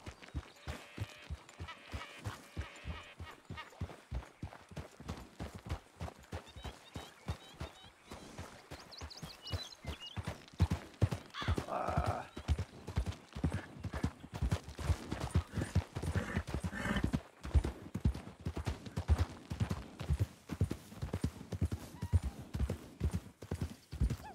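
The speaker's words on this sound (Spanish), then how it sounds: "Sí, escucho un caballo." Horse hooves clip-clop in the Western roleplay game RedM, a steady trotting rhythm of close, distinct hoofbeats that continues throughout and grows a little louder and busier toward the middle.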